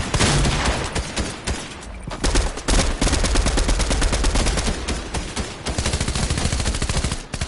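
Rapid gunfire fills a PS4 shooter video game, with dense bursts of automatic shots running almost continuously and loudly, with only brief gaps.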